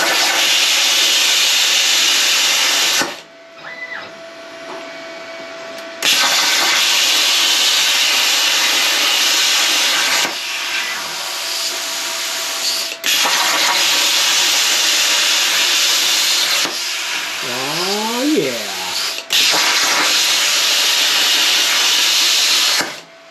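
A budget Arccaptain CUT55 plasma cutter on a CNC table slices a bottle opener shape from metal, giving a loud, steady roaring hiss in several long bursts with brief gaps between them.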